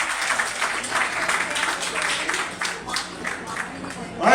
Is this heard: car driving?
no